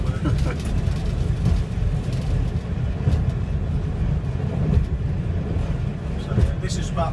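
A Class 141 Pacer diesel railcar climbs a steep gradient at the Midland Railway-Butterley, heard from the cab as a steady, loud low engine drone and rumble that continues under a man's speech.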